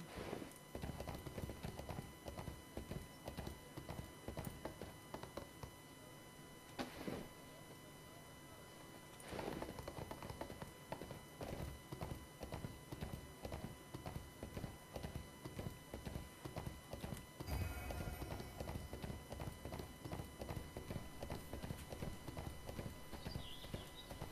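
Steady clip-clop of horse hooves in the online game ArcheAge, a regular trotting rhythm running throughout with a brief pause and a horse whinny, while someone speaks intermittently over it.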